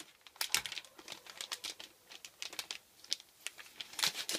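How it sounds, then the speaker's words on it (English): Cellophane wrapping is peeled off a new Apple wireless keyboard, a run of close, sharp crinkles and crackles in irregular bursts with brief pauses, no voices. "It's wrapped in a cellophane wrapping, so we'll just go ahead and take that off."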